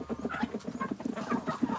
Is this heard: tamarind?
no